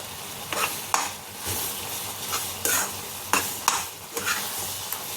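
Grated carrot halwa with cardamom powder stirred in a pan, a soft continuous sizzle broken by repeated spoon scrapes and clinks against the metal at an uneven rhythm, close and fairly loud.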